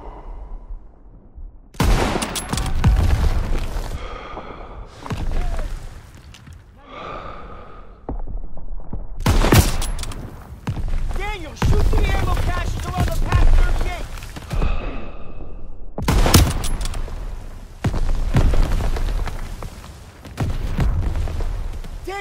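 Heavy World War II battlefield gunfire and explosions from Call of Duty: WWII erupt in long, loud bursts, with shouting and gasping voices over the din of combat.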